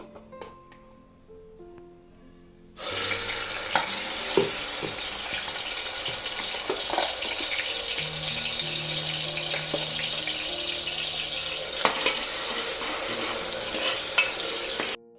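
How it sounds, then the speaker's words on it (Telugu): Ground spice paste dropped into hot oil bursts into a loud, sustained sizzle after a quiet start, with occasional stirring clicks, close by and with no talk. "ఇది కొంచెం హీట్ అయిన తర్వాత మనం మిక్సీ పట్టుకున్నాం కదా, ఆ పేస్ట్ని ఇందులో యాడ్ చేస్తున్నాను."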